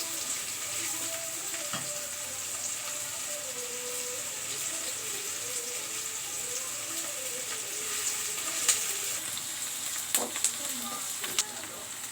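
Tomatoes, coriander and curry leaves fry in a pan with a continuous sizzle, close and moderately loud, broken by a few sharper crackles and spatters near the end.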